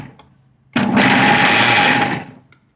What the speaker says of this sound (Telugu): ఇది ఒకసారి మిక్సీ బట్టి తీసుకొస్తాను.